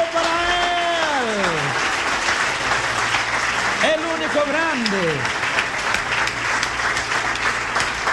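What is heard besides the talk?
congregation applause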